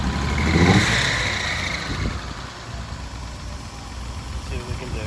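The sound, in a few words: Mercedes 280SLC engine hesitating and backfiring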